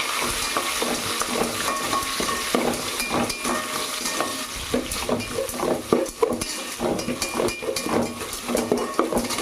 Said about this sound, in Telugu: దాంట్లోకి ఉల్లిపాయ ముక్కలు వేసుకుందాం. బాగా కలుపుకుందాం.